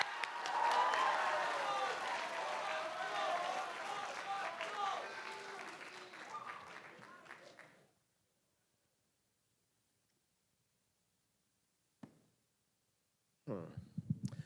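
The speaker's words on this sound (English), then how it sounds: "let's give a big round of applause for him." A high school audience at a writers' week event gives a speaker a loud, dense round of clapping with some cheering. It fades out after about eight seconds into near silence, and a voice briefly speaks near the end.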